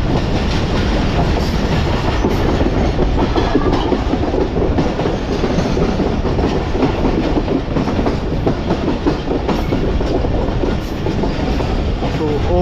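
Karakoram Express passenger train running on rails on the Lahore to Karachi route, with a steady loud rumble and clickety-clack of wheels over rail joints throughout, heard from on board.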